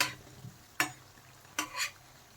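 Pumpkin leaf pakoda rolls being turned over in hot oil, with three distinct scraping flips of a spatula over a soft background sizzle.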